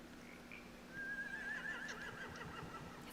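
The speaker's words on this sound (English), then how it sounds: "Scare the horses, too." In The Walking Dead video game, a single horse lets out a clear, quavering whinny that rises and trails off over about a second and a half, fairly faint against a quiet background hum.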